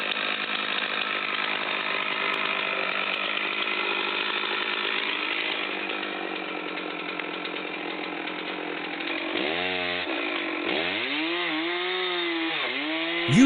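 Chainsaws cutting a very large tree roar continuously and loud, close up, with the engine pitch dipping and rising near the end as the blade bogs into the wood.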